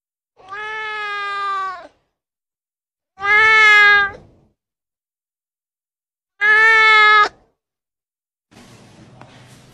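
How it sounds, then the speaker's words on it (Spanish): A kitten with an injured paw gives three loud, drawn-out meows in turn, each separated by a couple of seconds of silence, followed by a faint rustle. "Observen cómo este gatito llega solo a un hospital con una patita lastimada."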